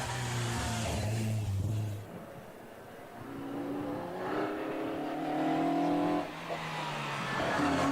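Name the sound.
Mazda MX-5 launching off the line at hillclimb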